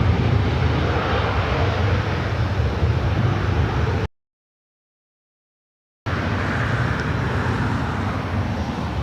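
Delta Airlines Boeing 737-900ER bound for Seattle taking off at LAX, a loud steady broadband jet roar that holds for about four seconds, drops out completely for two, then returns at the same strength.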